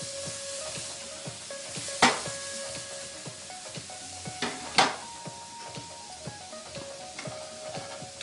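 Minced shallots sizzle and fry in bacon fat and butter in a pan for venison loin sauce, a steady crackling hiss with a couple of sharp stirring clanks.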